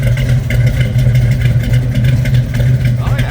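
A 1970 Chevrolet Camaro Z/28 RS tribute V8 runs steadily, heard close behind the rear tires where the exhaust exits: a deep, even, continuous rumble at strong volume with no pauses.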